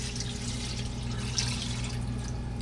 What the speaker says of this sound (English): Now I'm just going to cover these with water